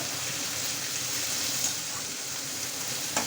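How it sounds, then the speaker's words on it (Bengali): Chopped tomato fries in a pan for a spicy dried-fish (shutki) curry, producing a constant, dense sizzle and hiss up close with no talking. "এটা একটু ভেজে নিতে হবে ভালো করে, নাহলে স্বাদ লাগবে না।"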